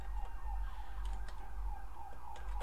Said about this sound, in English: I'll just pause it while the sirens go by